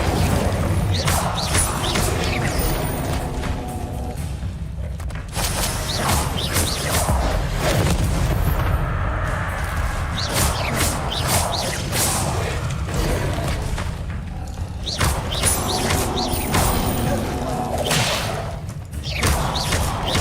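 Fire spells cast in Hogwarts Legacy during combat, with loud whooshing bursts and impact thuds repeating over a dense, continuous battle soundscape of crashes and magical effects.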